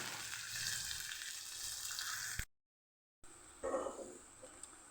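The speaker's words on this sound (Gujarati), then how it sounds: "બટેટાને આપણે તેલમાં સરસ પકાવી લેવાનું છે" Potatoes frying in oil in a pan while cooking Kathiyawadi okra and potato, a steady close hiss broken by a short silent gap before the sizzle resumes with some stirring.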